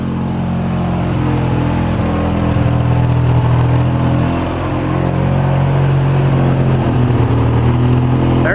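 A 2004 Polaris Sportsman 700 ATV engine idles roughly on choke with Seafoam in the fuel, a loud close steady drone with uneven pulsing and a brief sag midway before recovering.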